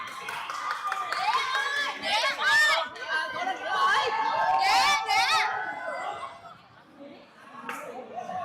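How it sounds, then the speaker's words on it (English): A crowd at a bouldering competition chatters, whoops and cheers with scattered clapping, a lively indoor mix of many voices rising and falling, with people talking throughout. "Hey, there seems to be some crowd favorites right now. A lot of cheering."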